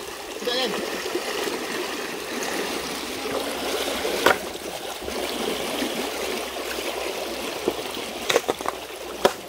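Strong floodwater rushing continuously up close while setting a rock net, loud and steady, with occasional splashes and knocks and a voice speaking over it.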